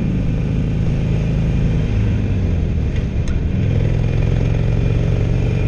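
A 2016 Harley-Davidson Roadster engine drones loudly and continuously, the pitch shifting slightly midway as the rider changes gear, with wind rumble throughout.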